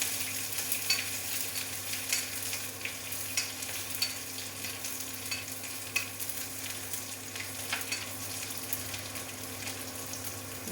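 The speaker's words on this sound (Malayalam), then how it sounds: "കടുക് പൊട്ടിയിട്ടുണ്ട്. നമ്മളിതിനകത്തേക്ക് ഉള്ളി ഇട്ട് കൊടുക്കുന്നു." Onions frying in hot oil with popped mustard seeds for a Kerala fish curry with ground coconut, a steady close crackling sizzle with faint stirring throughout.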